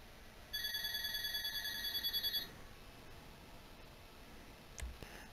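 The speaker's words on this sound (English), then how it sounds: "I'm sorry about that phone." A telephone rings close by with one continuous electronic trill, pulsing rapidly, for about two seconds. A faint thump follows, and a steady background hiss continues throughout.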